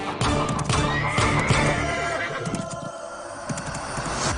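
A horse being readied for a race neighs loudly amid a dense, noisy mix of background sound, with a shrill whinny rising over the clatter.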